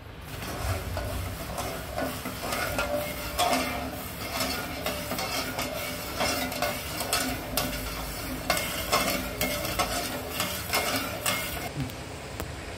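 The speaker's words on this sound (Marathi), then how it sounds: "हे काय एवढे शेंगदाणे भाजून घ्यायचे" Peanuts being dry-roasted in a pan for cow's-milk burfi: continuous rustling, scraping stir with rhythmic swishes and faint rattling of nuts against metal, steady and fairly close, no voices.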